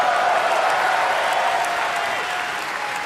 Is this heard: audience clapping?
yes